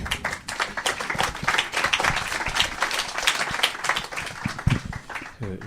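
Audience applause after a presentation on the Nantes metropolitan area's international visibility and brand strategy, steady clapping filling the room for several seconds without talk.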